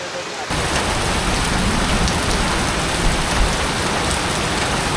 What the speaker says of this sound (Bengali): কি মুষলধারে বৃষ্টি।